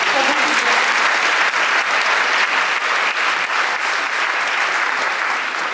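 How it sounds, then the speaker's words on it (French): A crowd at an ecology political gathering applauds Solange Fernet with sustained, loud, even clapping that fills the whole stretch without letting up. "beaucoup de gens veulent applaudir Solange"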